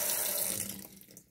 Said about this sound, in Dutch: En een heel klein beetje water gewoon uit de kraan.